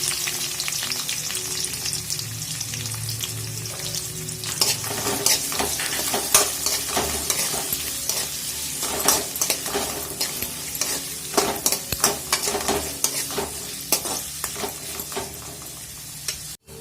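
Long-sliced onion frying in a pan with curry leaves, a continuous close sizzle punctuated by frequent clinking scrapes of a spoon stirring in bursts, moderately loud throughout.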